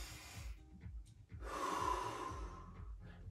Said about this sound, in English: focus on that breathing